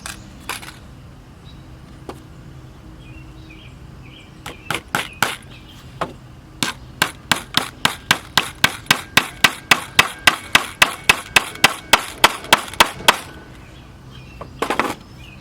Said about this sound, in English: Put one more smallish nail on the top over here.